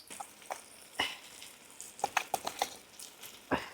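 Light crackling and popping of spices sizzling in hot oil while tempering a turkey berry pickle, with scattered sharp spits and a faint frying hiss underneath.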